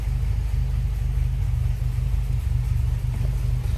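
A 1937 Lincoln Zephyr coupe engine idles steadily with a low, even rumble, heard close from the rear, alone, with no voices.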